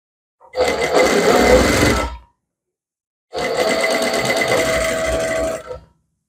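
A sewing machine stitches in two sustained runs of about two seconds each with a short pause between, a loud close mechanical whirring with no talking.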